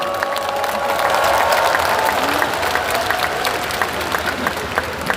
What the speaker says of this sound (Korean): 큰 격려의 박수를 부탁드립니다